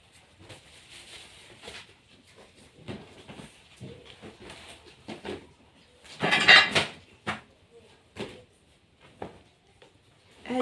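Kitchen pots and casserole dishes are handled in short bursts of clinks and knocks, mostly soft and close by, with one louder cluster of ringing clatter midway through.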